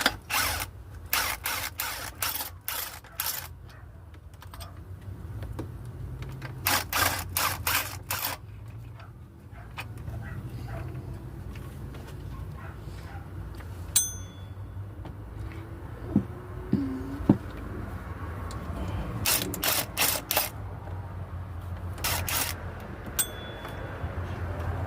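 Ratchet clicking as bolts come off a Ram 1500 water pump, in repeated quick bursts of sharp ticks with pauses between, close by under a low hum of background noise; no talking.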